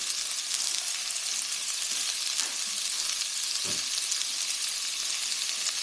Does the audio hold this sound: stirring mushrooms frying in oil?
yes